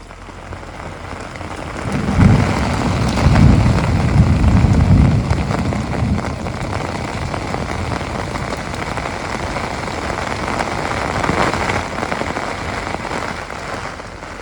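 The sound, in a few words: rain falling in the Appalachian forest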